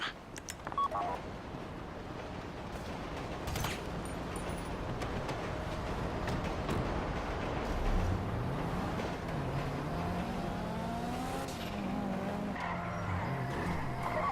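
A car drives in the video game Grand Theft Auto V, its engine a steady hum with rising and falling pitch as it accelerates, while brief tire squeals and skids break through over a constant road roar.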